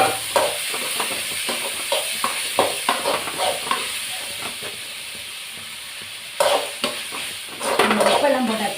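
Potatoes sauté in hot oil in a pan while a spoon stirs them, making repeated scraping clicks over a continuous hiss. Near the end the sizzle grows louder and busier.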